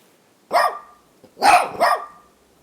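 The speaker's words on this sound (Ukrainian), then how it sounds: "Собаки-сапери допомагають ДСНС у розмінуванні." A mine-detection dog working with emergency demining crews barks three times, one short bark then a quick pair, loud and close with silence between.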